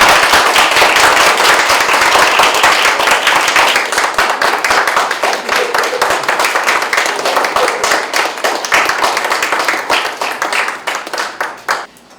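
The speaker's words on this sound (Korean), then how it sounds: "박수 주세요" Loud, dense, crisp clapping fills the room as the audience applauds at a business agreement signing ceremony between Daegu city, the city council and the education office. It holds steady, then cuts off abruptly.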